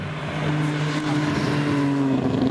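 2000 Nissan Skyline R33 GTR race car at a hillclimb, engine note climbing steadily as it accelerates, a loud, fairly close rising drone with no talk.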